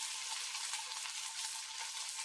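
Onions and other ingredients for chilli jackfruit fry lightly in a pan, giving a continuous, even hiss of sizzling oil, close and moderately quiet, with no voices.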